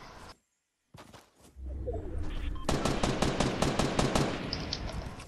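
Rapid machine-gun fire in a shooter video game, a quick string of sharp, evenly spaced shots starting midway and continuing to the end, fairly loud, after a brief silence and scattered clicks.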